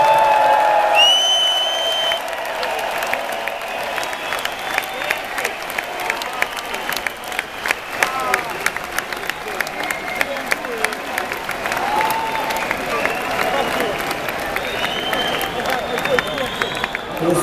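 Concert audience at an arena applauding and cheering loudly, a dense sustained wash of clapping with scattered whoops, the crowd noise steady throughout.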